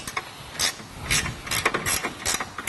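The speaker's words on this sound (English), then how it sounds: "we're going to go ahead and use an 11/16 end wrench and tighten these down." An 11/16 end wrench tightens bolts on a rear bumper with tire carrier on a Jeep TJ, LJ, YJ or CJ, giving a series of close, quick metallic clicking bursts.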